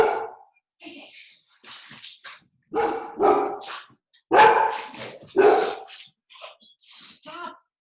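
A dog barks repeatedly at a plastic bag blowing around a yard, short sharp barks and yips in bursts, close by, while someone talks over and between them.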